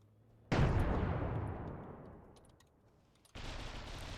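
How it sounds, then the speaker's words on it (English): APS guns firing in a naval battle video game: one heavy, loud blast with a long rumbling decay, followed by a second burst that starts abruptly near the end. "It's definitely taking some pain from those APS guns."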